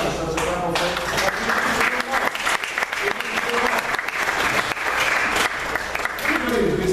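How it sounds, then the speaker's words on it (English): A church congregation claps together in thanks, a dense, steady burst of applause that fills the room for several seconds, close and loud, with a few voices mixed in. "Let's give ourselves a clap of thanks."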